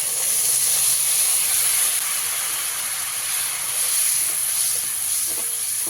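Tomato paste fries with mustard paste in a pan over a low gas flame for a Bengali pabda fish curry, giving a steady, close, even sizzling hiss with no talk.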